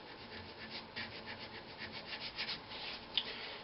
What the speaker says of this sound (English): you need to be sanding with a grain too as you go